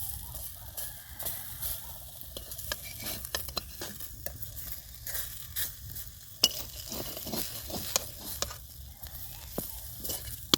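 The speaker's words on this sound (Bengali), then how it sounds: "এইবার ঢাকনাটা তুলে নেব আর হালকা করে বেগুনটা উল্টিয়ে দেবো।" Eggplant pan-fries without oil over a low clay-stove flame, a soft steady sizzle running beneath scattered clinks and scrapes as the lid comes off and the slices are turned.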